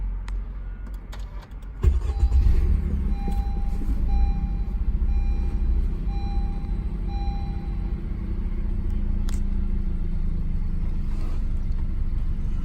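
A car engine starts up with a sharp onset and settles into a steady low idle, just after an intake coupler has been installed, and it runs on alone without talk.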